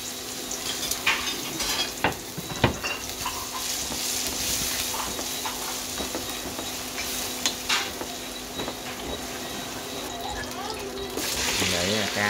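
Fish and chili sizzle in a hot pan over a steady frying hiss, with occasional clinks of a utensil and stirring; a voice talks faintly in the background.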